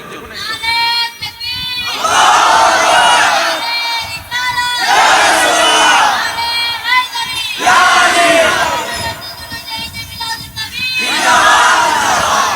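A large crowd at an Islamic religious sermon shouts the takbir in unison, loud surging bursts of massed voices repeated several times, with a single voice leading between them.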